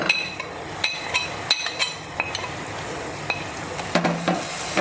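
Spice paste of chilli, ginger and garlic ground in vinegar, frying for pork vindaloo, a continuous close sizzle with repeated metallic spoon clinks and scrapes against the pan, no talk.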